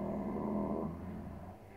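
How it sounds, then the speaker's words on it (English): A monster character in Poppy Playtime Chapter 3 snores in deep, rumbling, growl-like breaths, loud and close, with one long heavy inhale-exhale cycle that fades slightly toward the end. "He's snoring."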